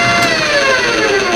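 A metal lathe spins up to boring speed, a loud, steady motor whine with a rising hum that holds continuously across the brief stretch.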